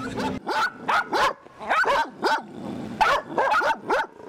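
Repeated barking from dogs, a rapid series of sharp yips and barks in short bursts, fairly close, with no talking.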